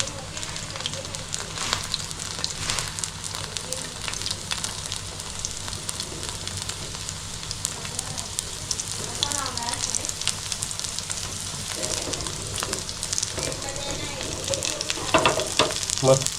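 Prawns deep-frying in hot oil over a high flame, a dense, continuous bubbling sizzle with faint crackles, held at an even level and rising slightly near the end, with occasional faint speech.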